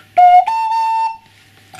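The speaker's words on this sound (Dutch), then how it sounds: "als je een fluitje maakt ben je enthousiast dat je een toon hebt" A handmade ceramic clay whistle blown in two bursts, a steady pure tone held for about a second before fading, alone with no talking.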